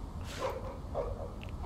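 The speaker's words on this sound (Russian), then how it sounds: "Она лает на нас." A dog barks in the Tom Clancy's The Division beta video game: a few short, fairly faint barks over a low background hum.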